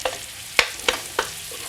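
Kale cooking down in butter in a pan, a soft background sizzle broken by three or four sharp scraping stirs, close and alone without voices.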